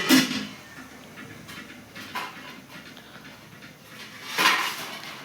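A small child plays with metal kitchen pots and pans at home, making a few scattered clanks and scrapes of cookware, a louder clatter at the start and near the end, with quieter rustling between.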